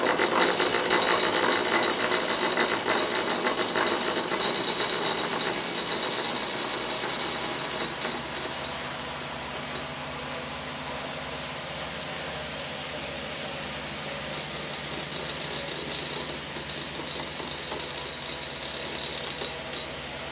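Small motors on a homemade quadcopter whir on a bench power supply as the voltage is raised, a dense buzzing mechanical drone that shifts in pitch partway through and stays loud and continuous.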